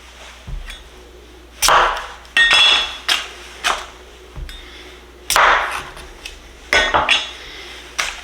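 A knife chops red potatoes in half on a cutting board, giving about ten sharp, separate knocks spaced irregularly with quiet pauses between them, close and clear.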